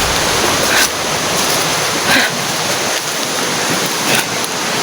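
Flowing river water fills the scene with a loud, continuous rushing, heard close by, with a few brief splashy surges and no talking.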